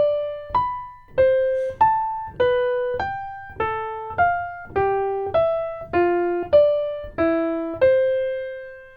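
Interval lick played as separated notes, each pair starting on the lower pitch and stepping up to the higher one. About fifteen clean, evenly spaced plucked tones ring out one at a time, gradually shifting pitch in a steady practice rhythm.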